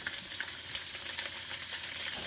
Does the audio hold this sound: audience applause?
no